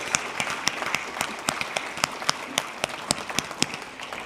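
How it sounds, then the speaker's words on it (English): Scattered, fairly faint clapping from a university celebration audience, with individual sharp claps standing out in an irregular rhythm throughout. "Clap for them."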